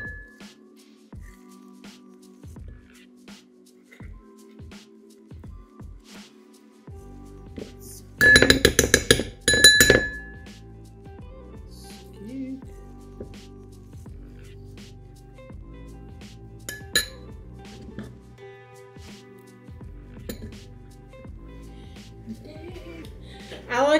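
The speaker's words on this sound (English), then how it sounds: "I like to get a little bowl and spoon so I can do all the mixing up in there" A spoon mixes avocado in a small bowl, giving sparse clinks and taps against the bowl, with a louder burst of clattering partway through and faint background noise elsewhere.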